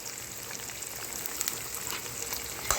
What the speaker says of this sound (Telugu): వేసేసి ఇలా ఫ్రై చేసుకోవాలి.